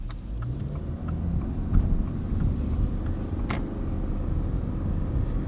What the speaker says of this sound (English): we've got this 2-liter boxer 4-cylinder made to the continuously variable transmission